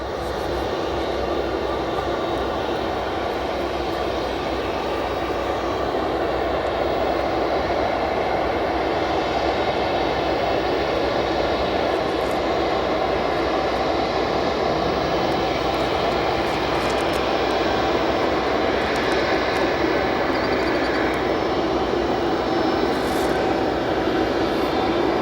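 An Atlas Air jet at O'Hare Airport produces a loud, continuous engine roar that holds steady for the whole stretch, with no voices over it.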